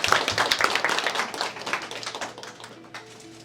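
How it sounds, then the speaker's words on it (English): Round of applause from an audience at a business networking event, dense claps near and loud at first, thinning and fading toward the end over a low steady hum. "Let's all give her a round of applause."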